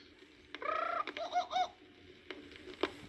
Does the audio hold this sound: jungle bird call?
yes